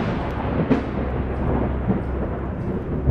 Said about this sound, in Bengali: কড়কড় শব্দে শ্মশানের চারিধার কেঁপে বিদ্যুৎ চমকালো